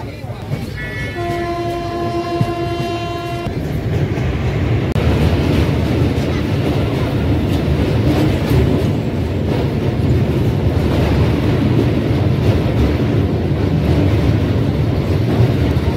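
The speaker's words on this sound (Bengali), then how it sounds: "ট্রেন কিন্তু আমাদের চলে এসেছে পাটনা সাহেব রেলওয়ে স্টেশন" The Poorva Express pulls into Patna Sahib station, opening with a long multi-tone horn blast before a loud, continuous rumble and clatter of wheels and carriages takes over.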